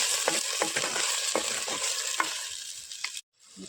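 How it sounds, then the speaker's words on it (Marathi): Tomatoes frying with squid in a pan, a steady close sizzle with repeated stirring scrapes before a sudden cutoff near the end. "याच्यात टमाटो टाकून घेतो आंबटपणासाठी टमाटो टाकू"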